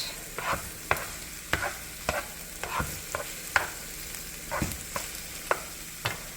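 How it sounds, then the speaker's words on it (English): Ground meat stirred in a skillet: repeated spatula scrapes and taps against the pan at a loose, steady rhythm over a light sizzle, close and clear. "we are going to put the meat back in the skillet. Stir that around a little bit."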